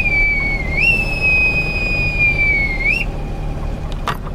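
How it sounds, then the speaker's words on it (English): A bosun's whistle blown aboard a boat, a single sustained shrill tone that rises, holds steady for about two seconds and then drops, over a steady low engine-like rumble. "You've heard me use the bosun's whistle before"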